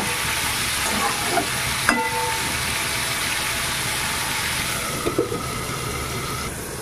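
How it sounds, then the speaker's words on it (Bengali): Jackfruit seeds frying under a lid in a covered pan give a steady, loud, even sizzle throughout, with a few faint clinks of utensils, close up and without talk. "ঢাকা দিয়ে একটু ভেজে নেব"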